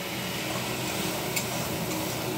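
Spices fry in a pan as the base for a Bengali fish curry. A soft, steady sizzling hiss continues without a break, with faint scraping touches and no voices.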